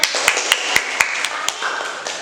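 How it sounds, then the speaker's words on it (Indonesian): Students in an Indonesian classroom clap in unison, a series of sharp, evenly spaced hand claps over a noisy room background. "Tepuk tangan."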